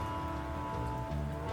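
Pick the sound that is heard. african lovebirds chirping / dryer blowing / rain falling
rain falling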